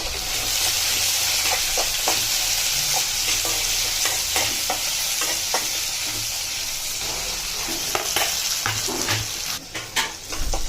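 Onions, garlic, ginger, cinnamon, cloves and green and dried chillies fry in hot oil for a village-style mutton head sambar, a dense continuous sizzle broken by frequent scraping stirs and soft pan knocks, close by and with no talking.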